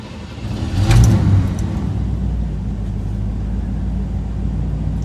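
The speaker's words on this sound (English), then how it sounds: "A warm start is going to require a bit of cranking, and then we'll sputter to life." An old Buick's engine catches after a warm-start crank and revs loudly near the start, then settles into a steady low rumbling idle close by.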